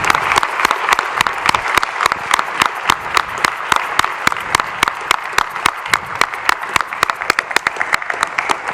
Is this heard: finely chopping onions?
no